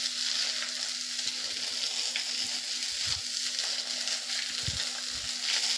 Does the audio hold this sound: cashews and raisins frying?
yes